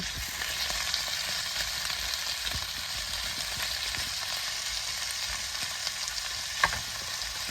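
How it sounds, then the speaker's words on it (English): Steak frying in a hot pan of bubbling oil, producing a continuous close sizzle and crackle with small pops throughout. "Now that's nice and bubbly, we're just gonna add the steak."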